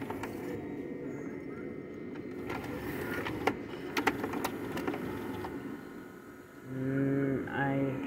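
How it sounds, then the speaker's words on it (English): Loading motor of a faulty VCR running as a tape is inserted, a steady mechanical whir with scattered clicks and ticks, then a wavering higher motor whine near the end. "I heard the pattern of the loading motor and it's not good"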